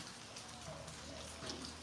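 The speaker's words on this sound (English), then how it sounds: "It's raining." Steady light rain falls outdoors, a soft even hiss of drops on surfaces that runs through the whole stretch, fairly faint, with no talking over it.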